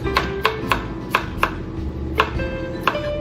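A knife chops fresh garlic into a medium mince on a cutting board for Japanese garlic shrimp, with about ten sharp, evenly spaced taps that are close and crisp and have no talk over them.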